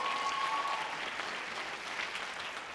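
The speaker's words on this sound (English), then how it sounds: "Let's get a big round of applause to you for being such an incredible audience tonight" A crowd at a theater anniversary show applauds, a dense, even wash of clapping heard at a distance and fairly faint, holding steady without a break.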